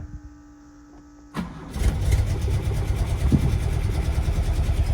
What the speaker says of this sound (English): Idling about right